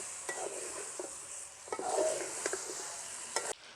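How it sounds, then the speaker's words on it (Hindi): Boiled mutton being fried on high heat in a pot for yakhni pulao, with a steady sizzle and a few stirring scrapes and clanks, close and without talk. "जो मटन हमने तैयार करके रखा हुआ है बॉयल करके, वो डाल लेना है। और इसकी बनाई करनी है हमने तकरीबन 5 मिनट"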